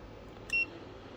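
A multimeter set to continuity mode gives one short, clean electronic beep, quiet and close, lasting a fraction of a second against a faint room hiss.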